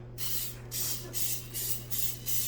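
Five short bursts of aerosol cooking oil spray onto wontons, each a hissing puff about a third of a second long, evenly spaced, close by with a steady low hum underneath.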